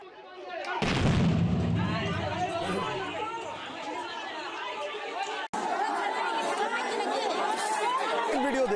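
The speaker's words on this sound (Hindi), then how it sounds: "इस दौरान बमबाजी शुरू हो गई।" A crude bomb explodes with a sharp, loud blast during a Ram Navami procession in Murshidabad, followed by a sustained din of crowd shouting and chatter.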